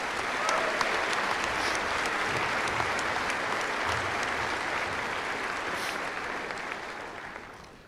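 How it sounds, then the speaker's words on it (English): A large audience at the Beatrice High School 2025 commencement applauds in a dense, sustained roar of clapping that holds steady, then gradually fades toward the end. "Let's give all those people a round of applause."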